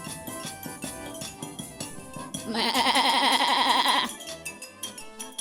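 A goat bleats once in a long, wavering cry over background music during a village stage play, lasting about a second and a half before the music carries on.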